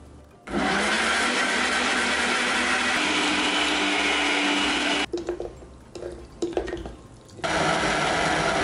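A blender whirs loudly through olive oil and nuts, a steady grinding drone that cuts out briefly near the end in a few short stop-start pulses before running again.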